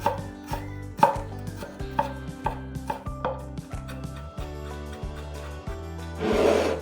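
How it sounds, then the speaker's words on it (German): Ginger being finely chopped with a knife on a board, a steady run of about a dozen crisp, evenly spaced thuds close by, followed by a brief scraping swipe at the end, no voices. "Ingwer fein hacken"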